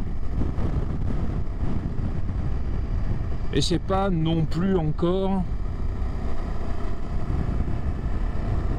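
A vehicle engine runs at a steady drone around 3000 rpm under broadband road and wind rumble, continuous throughout, while someone speaks briefly partway through.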